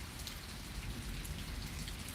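Rain pours steadily during a thunderstorm in Pittsburg, Kansas, a dense, even hiss of drops hitting surfaces with no thunder or voices standing out.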